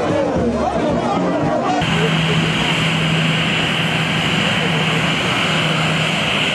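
A presidential plane arriving, its aircraft engine noise a loud, steady roar with a low droning hum that fills the whole stretch, crowd babble faintly mixed beneath.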